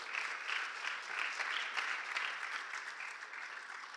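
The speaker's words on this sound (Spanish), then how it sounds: "Denle un aplauso al Señor." A church congregation applauds continuously, dense steady clapping from many hands filling the room at an even level for several seconds, with no voice rising above it.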